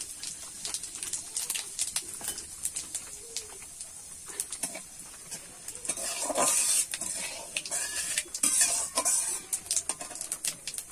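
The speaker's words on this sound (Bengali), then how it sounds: "এবারে ওই তেলেতে আমি দেখো একটা তেজপাতা, গোটা জিরে আর দুটো লঙ্কা কিন্তু আমি কেটে ভেজে দেব" A bay leaf, whole cumin seeds and two cut chillies fry in hot oil for a vegetarian banana-flower curry, giving a steady close sizzle with scattered spatula clicks, and birds chirp in the background.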